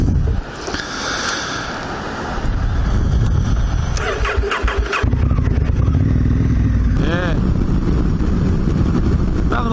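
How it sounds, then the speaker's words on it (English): A KTM 790 motorcycle is ridden at speed, with its engine roaring loud and close under heavy, steady wind rush for the whole stretch. "This is Jones and I going to go catch up with Trev on the KTM 790"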